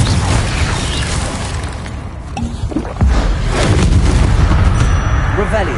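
Confringo fire spell explosions in the Hogwarts Legacy video game, sounding as dense booming bursts that keep a busy, loud bed going, with a sharper hit near the middle.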